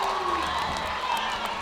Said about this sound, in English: Listen to the Marist crowd.